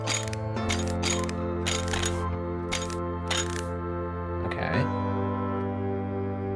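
Screws are removed in a video game, heard as several quick metallic ratcheting clicks in a run over a steady low electronic hum, ending with a brief mechanical whir, with no voices.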